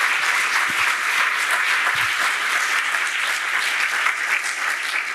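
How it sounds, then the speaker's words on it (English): A conference audience at a design systems event gives loud, continuous applause for the organisers and earlier speakers. The clapping is dense and steady and lasts several seconds with no talking over it. "I am going to do a little round of applause before I even start speaking for the people that have gone before, and for the organisers"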